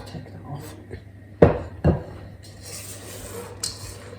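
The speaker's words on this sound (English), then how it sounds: "so we stir those in and then fold in the flour and cocoa powder" A spoon scraping and knocking against a mixing bowl while chocolate is stirred into cookie dough, two distinct clinks followed by softer scraping, close and fairly quiet.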